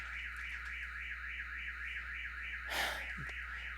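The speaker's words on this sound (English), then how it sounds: "There's some car security alarms." A car alarm wails in the distance with a steady rising-and-falling tone, faint under a low hum, with a brief rustle partway through.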